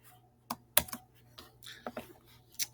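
Keys clatter on a Chromebook keyboard in short irregular bursts of clicks, close and fairly quiet, with pauses between strokes and a faint steady hum underneath.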